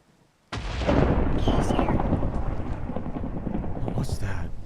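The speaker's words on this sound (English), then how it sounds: "It was lightning right behind you." Lightning strikes close by in Minecraft, starting with a sudden loud crack and rolling into a long rumbling thunder that lasts to the end. Faint talk sits underneath.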